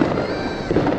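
Fireworks explode over London on New Year's Eve, a dense crackling barrage with sharper bursts near the start and end, heard at moderate distance without talk.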